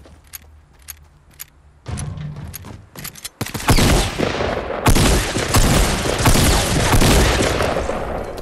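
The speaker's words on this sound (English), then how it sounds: "I hear him shooting" Fortnite gunfire in solo-versus-duo play: faint scattered clicks and shots at first, then heavy, continuous bursts of weapon fire and impacts that grow loud and dense for the last five seconds.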